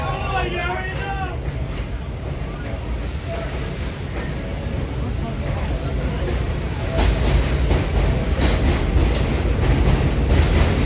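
Antique BU Gate subway cars run along the line, a steady rumbling rail roar building louder toward the end, with people talking over it.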